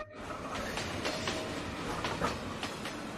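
A city tram in Changchun rolls along its tracks with steady rumbling and rhythmic clickety-clack wheel beats every half second or so, fairly close and without talking.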